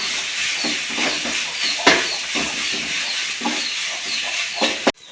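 Onion and ginger sizzle in a pan for chicken curry, a continuous frying hiss broken by regular stirring scrapes and one sharper clatter, close by and without speech, ending in an abrupt cutoff.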